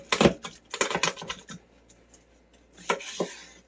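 Raw chicken being trimmed of its small extra parts after skinning, heard as a few close, crisp cutting clicks and snips in short bursts, with a final pair of snips after a quiet pause.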